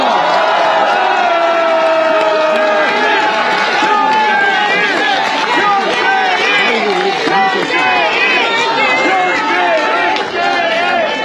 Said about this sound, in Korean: 큰 격려 박수 부탁드립니다